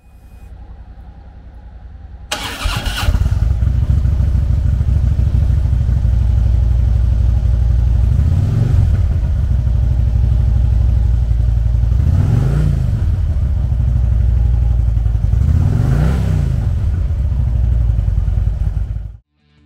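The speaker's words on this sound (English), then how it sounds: "Powered by a 103 cubic inch V-twin motor, the Electra Glide puts 105 foot-pounds of low-end torque through a 6-speed transmission." A 2014 Harley-Davidson Electra Glide Ultra Limited with a 103 cubic inch V-twin starts up and settles into a loud, steady, loping idle nearby, with three brief revs blipping over the rumble, no talk.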